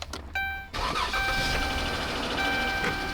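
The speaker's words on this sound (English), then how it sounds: "Start the car." A 2014 Dodge Charger engine, after a water pump replacement and with the coolant cap off, cranks briefly, then catches and settles into a steady, close idle.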